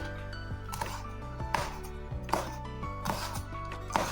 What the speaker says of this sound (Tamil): நான் கறிமிளகாவையும் கட் பண்ணி எடுக்கிறேன்